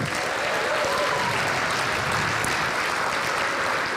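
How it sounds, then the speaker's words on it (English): A crowd applauds at a travel and tourism industry achievement awards ceremony, producing dense, sustained clapping at an even, fairly loud level throughout, with no pauses. "How about a round of applause for everyone?"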